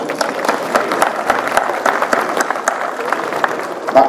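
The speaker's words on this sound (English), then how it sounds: "Everybody give a hand for all our veterans." An audience breaks into steady, loud applause for veterans at a campaign event for an agriculture commissioner candidate, the clapping dense and continuous throughout with a few voices under it.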